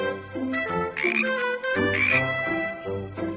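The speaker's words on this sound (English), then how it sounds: "A frog goes." Cartoon frog croaking in a children's animal learning game with three kittens, a few short harmonic croaks in quick succession over a light musical backdrop, close and clear with no talking.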